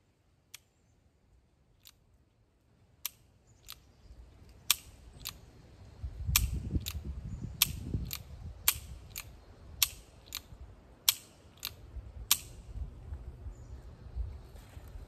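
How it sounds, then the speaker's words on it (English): A series of sharp, crisp metallic taps as percussion caps are hammered onto the cones of an 1851 Navy revolver, at irregular intervals, with a muffled rumble of handling noise in the middle stretch. "So let me hammer them through."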